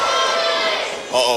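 Wrestling match crowd cheering loudly, a dense sustained roar of many voices with shouts rising again near the end.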